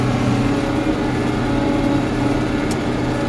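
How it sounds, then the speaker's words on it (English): John Deere 4450 tractor pulling a 285 disc mower through grass hay, heard from inside the cab as a steady, even engine drone with mower hum, constant and moderately loud with no talk. "I do enjoy mowing with this tractor. Very quiet, clean in the cab and secure."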